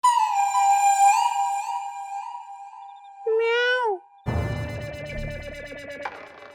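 A cat lets out long, wavering meows with a short rising-and-falling cry, followed by a sudden burst of clattering, rattling noise; no one speaks.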